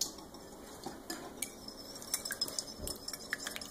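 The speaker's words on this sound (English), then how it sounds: "which we are going to whisk together." An egg and water whisked together for an egg wash in a bowl, a fast run of light metallic clicks and taps of the whisk against the dish, close and fairly quiet with no talking.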